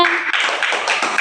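A group of schoolchildren claps hands together in a classroom English lesson, a quick burst of dense, close claps with a voice at the start.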